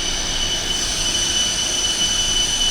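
A train runs on rails between towns near La Spezia, Italy: a loud, continuous rolling rumble with high, steady wheel-squeal tones riding on top, close by and uninterrupted.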